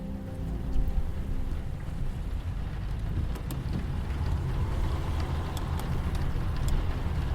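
Heavy rain drums on a car driving at night across open desert, a dense, loud, unbroken roar of engine rumble and downpour with no talking.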